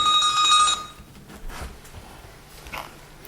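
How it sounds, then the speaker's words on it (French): An alarm clock rings in a short, bright, shrill burst lasting under a second at the start. It then cuts off into quiet room noise with a few faint rustles. "C'est le réveil."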